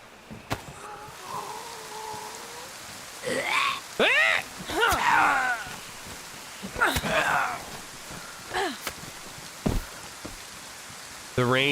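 Steady rain hisses across the whole scene in the survival video game DayZ, set in Chernarus, while a person talks over it and brief clicks and thumps cut through the downpour.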